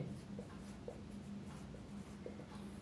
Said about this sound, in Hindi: तो यहाँ हम क्या करेंगे, सॉल्यूशन लिखते हैं पहले।